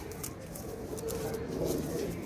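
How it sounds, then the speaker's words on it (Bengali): A single pigeon at a pigeon farm gives a quiet, low, drawn-out coo over a soft background hum. "খুব চমৎকার একটা কবুতর"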